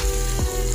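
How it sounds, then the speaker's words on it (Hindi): Spice masala with chopped tomatoes and green chillies frying in a pan over a medium flame, a steady loud sizzle running throughout with a brief stir-like swell near the middle, no voices. "मीडियम फ्लेम पे हमने मसाले को भूनना है।"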